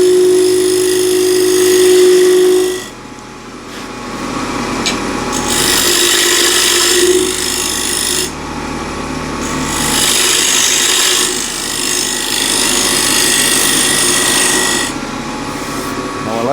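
A scraper cuts a wooden bowl spinning on a lathe, giving a loud, close, continuous rasping scrape that stops and restarts several times as the tool is lifted and set back on the wood.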